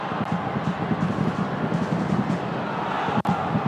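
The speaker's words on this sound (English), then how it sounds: "Crowd scream" A football stadium crowd at a World Cup qualifier roars over a goal chance, a dense, loud, sustained swell of voices with a brief sharp knock near the end.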